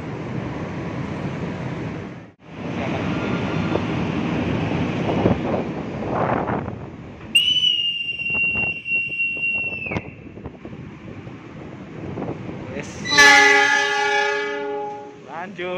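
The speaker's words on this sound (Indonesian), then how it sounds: "Nah, keretanya langsung berangkat." A KRL commuter electric train hums and rumbles, a long high tone sounds, then a rising whine of motors as it pulls away, with voices nearby.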